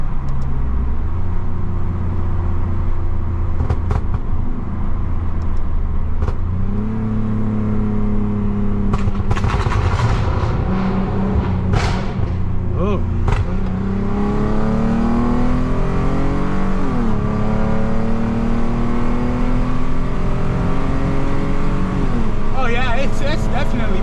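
Tuned Lexus IS250 with an M-Force exhaust, revving hard through the gears with a steady loud drone, rising and falling pitch and sharp pops and crackles scattered throughout, with people talking over it.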